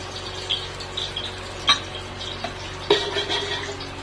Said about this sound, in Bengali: ঘি দিলাম 1 বাটি